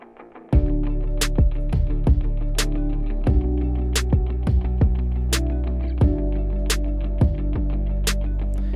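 A steady pop-punk drum beat plays with punchy kicks and snappy hits repeating in a regular rhythm, with sustained synth tones layered underneath, loud and up close.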